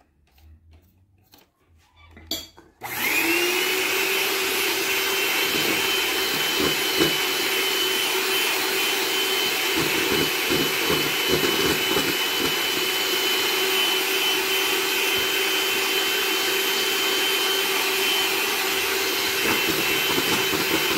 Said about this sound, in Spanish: Y vamos a batir.